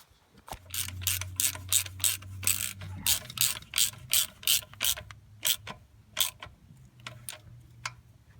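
A ratchet wrench tightens a banjo bolt with new seal washers on a fuel lift pump line into a filter housing, giving rapid bursts of close, crisp clicking in uneven runs with short pauses between strokes.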